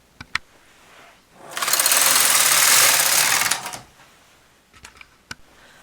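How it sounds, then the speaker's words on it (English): A bulky knitting machine set for circular knitting at the tightest tension runs its carriage across 56 needles of knit 1, purl 1 ribbing, giving a loud, steady mechanical rasp for a couple of seconds between a few sharp clicks and knocks. "I've set the machine for circular knitting and tension 1, and I'm knitting my 3 rows"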